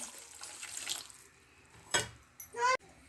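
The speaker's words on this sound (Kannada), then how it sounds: "ನಾನು ಸ್ವಲ್ಪ ನೀರು ಹಾಕ್ತೀನಿ" Water poured into a heated pan for cheese Maggi noodles gives a few short, close splashing and sizzling bursts after quieter kitchen noise.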